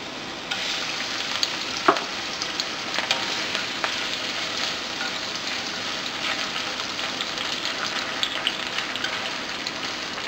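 Shrimp fries with ginger and garlic in hot cooking oil for Yang Chow fried rice, giving a steady, dense sizzle with occasional pops and stirring scrapes, and no one talks.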